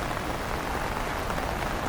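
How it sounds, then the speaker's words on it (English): Heavy rain pours down steadily across the whole stretch, a dense, even hiss of drops hitting surfaces outdoors near a small dock, with no voices over it. "But it's raining so heavily right now."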